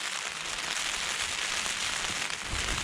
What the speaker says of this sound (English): when it rains on a tent it usually sounds worse than it is